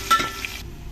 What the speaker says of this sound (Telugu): కొద్దిగా వెల్లుల్లి, ఉల్లిపాయ కట్ చేసుకొని వేసుకోవాలి. ఇది కొద్దిగా వేగిన తర్వాత